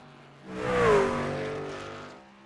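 A race truck engine roars past on a qualifying lap at Bristol in a racing video game, swelling loud as it nears and then easing off in a single pass-by with a high whine.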